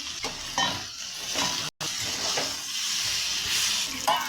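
Small fish and eggplant cooking with spices in a pan, sizzling steadily up close while a utensil stirs and scrapes in short strokes, with one brief dropout.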